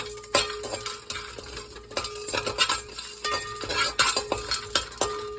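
Eggs fry in a pan for chicken biryani with a soft sizzle, while a utensil scrapes and clinks against the metal in quick, uneven strokes up close.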